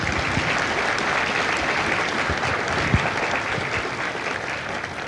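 A large crowd gives loud, sustained applause at a Marine Corps recruit graduation ceremony at the San Diego depot. The clapping is dense and continuous from start to finish.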